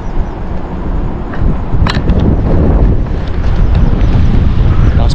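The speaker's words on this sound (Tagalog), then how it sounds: "Lakas po ng hangin, medyo malakas ang hangin." Strong wind blows hard across the microphone outdoors near a bridge, a continuous heavy rumble with faint bits of background sound.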